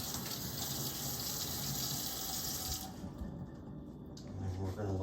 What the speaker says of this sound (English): I'm rinsing my asparagus off.